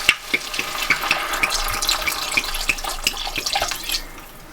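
Red wine glugging from a bottle into a pot of beef bourguignon, a continuous close liquid pour with bubbly splashes and small clinks, steady for several seconds before easing off.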